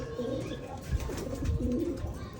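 Pigeons coo in soft, low, rolling bursts during a free-flight session outdoors, several calls overlapping at close range against a faint background hum.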